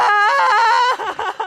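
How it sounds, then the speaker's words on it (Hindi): A loud, sustained scream, a girl's mother wailing and crying, rising and wavering for about a second before breaking into shorter sobbing cries, close and alone. "नैन्सी के कानों में एक जोर की चीख सुनाई दी"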